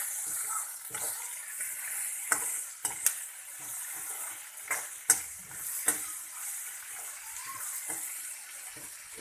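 Onion and curry leaves fry in a pan with a steady hiss and crackle, broken by sharp spatters and brief stirring scrapes; close and moderately loud, with no talking.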